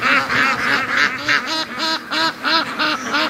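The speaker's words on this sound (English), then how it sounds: "Oh, there's a couple of geese." A flock of ducks and a couple of geese honk in a quick, regular series of about nine loud, close calls, all running on without pause.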